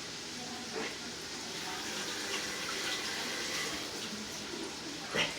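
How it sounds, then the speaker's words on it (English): Tap water runs steadily into a sink for hand washing in a home kitchen, a continuous splashing hiss with a brief louder splash near the end. "I'm going to wash my hands."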